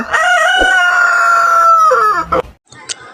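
A talking myna bird imitates a rooster's crow with a loud, close, drawn-out call that rises, holds and then breaks off into a short rough ending. A brief high squeak follows after a pause.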